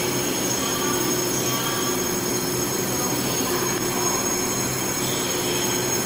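The EMU868+EMU867 electric multiple unit, a commuter train running on the Pingtung Line toward Ershui, gives a loud, continuous rumble of rolling wheels with sustained high squeal from the rails.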